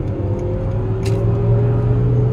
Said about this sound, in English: That is foot to the floor.